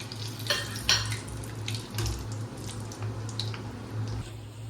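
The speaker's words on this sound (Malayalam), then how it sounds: "കാഷ്യൂനട്ടും അതേപോലെ തന്നെ വറുത്തെടുക്കാം." Cashew nuts frying in hot oil for a chicken biryani: a moderate, steady crackle and sizzle with a few brighter pops and a low background hum throughout.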